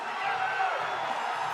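A strongman competition crowd cheers and murmurs excitedly as spectators rise, a dense sustained wash of voices and whoops filling the brief moment at moderate loudness.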